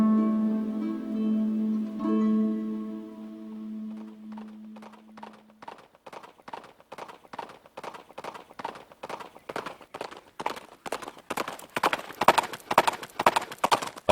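A horse carrying a knight, its hooves clip-clopping in a steady, gradually louder rhythm that starts after a sustained musical tone fades, with no talk.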